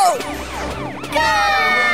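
A cartoon police car siren wails loudly in rising and falling sweeps, growing stronger and more layered toward the end, with no voices over it.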